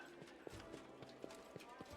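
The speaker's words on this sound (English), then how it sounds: "Oh, look, there's her horse." Horse hooves clip-clopping in Pathfinder: Wrath of the Righteous, a steady walking rhythm of soft, evenly spaced hoof knocks, faint and quiet against a low background.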